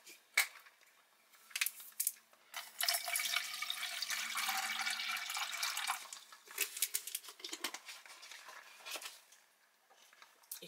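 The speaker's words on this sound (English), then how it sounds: "You can hear the meatballs starting to blip away." Water with meatballs from a Russian military ration pack starting to bubble in a pot, with scattered ticks and pops, a hissing stretch in the middle, then more sporadic bubbling, fairly quiet.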